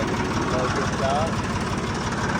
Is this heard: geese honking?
no